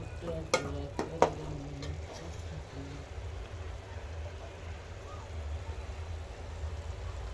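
Masala gravy for a simple prawn dish frying in oil in a pan, with a few sharp spoon knocks on the pan early on, then a low steady sizzle and bubbling as it is stirred.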